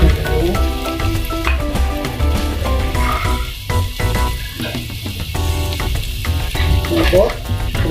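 Onions and garlic sauté in a pan for ginisang monggo, a loud, dense sizzle with crackling and stirring scrapes throughout, close up.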